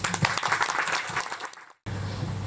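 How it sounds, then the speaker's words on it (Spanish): Applause for the poet Olvido García Valdés at a literary reading during La noche de los libros 2025, a dense close patter that fades out before a brief gap and then steady room noise. "la señora Olvido García Valdés, para quien pido ya el primer aplauso"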